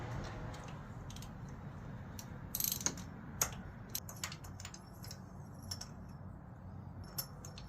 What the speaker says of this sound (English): Time to remove those pesky spark plugs.